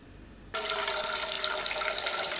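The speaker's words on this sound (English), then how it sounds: "you need to fill this utensil with half the amount of water" Tap water runs steadily into a utensil being filled halfway to clean a conch shell, a loud continuous splashing stream that starts abruptly after a quiet moment and keeps going alone.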